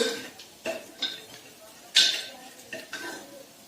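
Onion and masala mixture stirred in a pan for masale bhat, a few scraping and clinking strokes of a spoon against metal with light sizzling between them, close and moderately loud.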